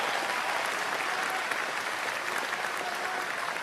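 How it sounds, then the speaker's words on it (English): A crowd applauds at an election rally in Kitchener, Ontario, in steady, dense clapping that holds at an even level for several seconds and sounds somewhat distant. "Give them a round of applause."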